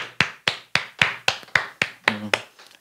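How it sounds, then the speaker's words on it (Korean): A church congregation claps in unison, about ten sharp, evenly spaced claps in a steady rhythm that trail off into softer taps at the end. "우리 하나님께 감사의 박수를 드리겠습니다"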